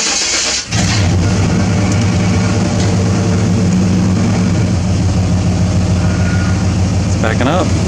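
A Chevrolet Z71 pickup, a $1100 project truck after an engine transplant, runs steadily close by while backing up, its loud, even engine drone starting after a brief dip near the start and holding throughout.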